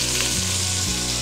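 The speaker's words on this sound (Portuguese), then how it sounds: "a carne já deu uma boa dourada, até agarrou um pouco no fundo da panela" Beef browning and sizzling in a pot, with a dense, steady frying hiss and a low hum underneath across the short stretch, no talk present.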